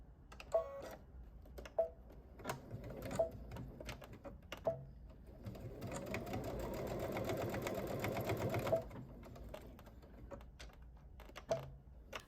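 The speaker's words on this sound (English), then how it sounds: "I am going to switch over to some pink thread, and that way I can just sew it closed with my machine" A sewing machine sews a fabric project closed with pink thread, running in a steady burst of rapid stitching near the middle. Sparse clicks and taps come before and after, all fairly quiet with no voices.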